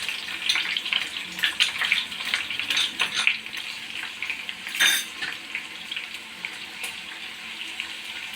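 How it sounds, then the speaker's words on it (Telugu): Onion and green chillies frying in oil for a fish curry make a bright, hissing sizzle that rises and falls with occasional louder spatters, close and with no talking. "పచ్చిమిరపకాయ బాగా వేయించాక ఉల్లిపాయ వేస్తాం."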